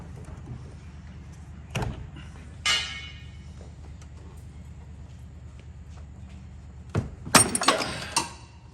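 A wrench cracks a tight bolt loose on a 2002 Chevrolet Trailblazer during a front main seal replacement. Close, sharp metallic knocks and a clunk ring out, followed near the end by a quick burst of clanking metal.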